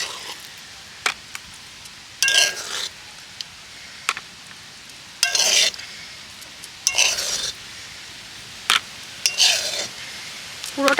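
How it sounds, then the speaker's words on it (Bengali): Greased tray receiving a sweet nolen gur sandesh mixture of chhena and date-palm jaggery, spoon scraping it from a bowl in several short, bright rasping bursts separated by quiet gaps, close and fairly loud. "এবার এই মিশ্রণটা আমি এই ট্রেটার মধ্যে দিয়ে দেব।"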